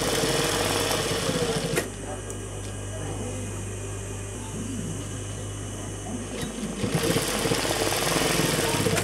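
An electric sewing machine stitching a salwar, a steady close motor whir that runs loudly at the start, eases to a quieter hum in the middle, then speeds up again toward the end.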